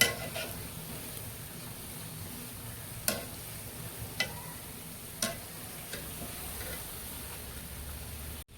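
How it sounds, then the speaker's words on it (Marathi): Semolina (suji) gulgule fry in hot oil with a faint, steady sizzle while a spoon stirs them, with a few light clinks against the pan. "सारखं असं हळवत राहायचं तेलामध्ये"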